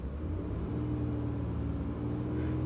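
A Lexus engine running steadily and rising slightly in pitch as it is revved, a continuous low mechanical rumble with tonal harmonics, close and fairly loud without any voices.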